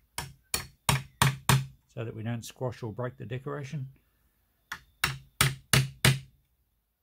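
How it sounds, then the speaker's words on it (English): Sharp metallic hammer taps on a nail punch, driving nails into a mirror frame, strike in quick, regular bursts, about five at a time, before and after someone speaks briefly in between. "we'll just use a punch to hammer the nails home"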